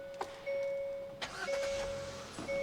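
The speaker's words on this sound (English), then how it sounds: "Now let's turn on the car because it is incredibly hot today." A Hyundai compact car being switched on, with a short chime tone, a starter crank and the engine catching into a low idle, close and moderately loud.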